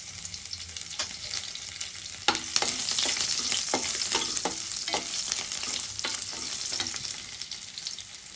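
Garlic cloves frying in hot oil for a Telugu atukula (flattened rice) mixture, a steady close sizzle broken by repeated sharp clicks and scrapes of a spoon stirring in the pan.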